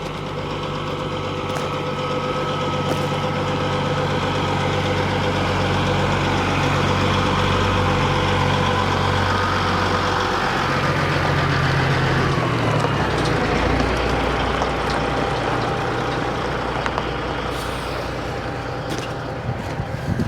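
Truck 116 idles steadily as it returns: a continuous low engine drone that shifts pitch partway through and then settles into a steady idle.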